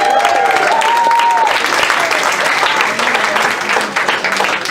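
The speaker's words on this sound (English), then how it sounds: "you're going to have to keep clapping after every sentence because it gets better" Clapping from a meeting audience honoring a high school girls varsity basketball team at a school board session, a dense patter under a brief tonal sound near the start that thins slightly toward the end.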